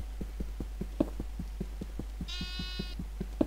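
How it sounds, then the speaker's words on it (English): A single short sheep bleat in Minecraft sounds over a steady, rhythmic thumping pulse and a low constant hum. "I hear a sheep."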